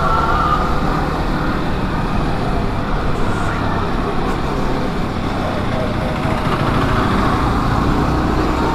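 City road traffic roars past a Yamaha R15 V4 motorcycle rider, a loud, steady wash of engines and wind with a distant siren-like tone, and a voice speaking faintly beneath.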